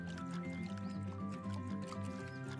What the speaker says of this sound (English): I forgot to water the carrots.